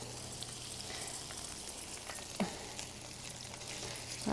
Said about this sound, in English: You can start to hear the bacon.